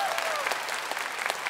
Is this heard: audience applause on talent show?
yes